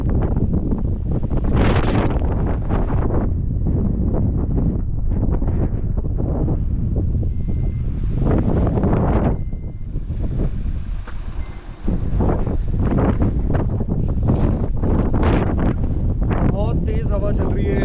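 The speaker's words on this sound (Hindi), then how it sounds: "बहुत तेज हवा चल रही है यहाँ पे, बहुत ही तेज।" Strong wind roars and buffets a microphone during a motorcycle ride on a rough mountain road, loud and gusty, with brief lulls and someone talking over it.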